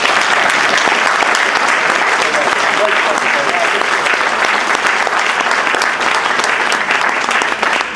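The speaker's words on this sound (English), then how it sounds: "Let's give Glenn a round of applause" Loud, dense applause from an audience for a speaker fills the room continuously for several seconds, close and steady without a break.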